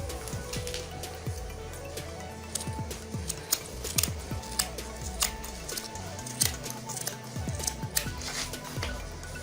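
Scissors snip through fabric being cut for a ruffled puff pencil sleeve, with a run of close, repeated light cuts and faint clicks.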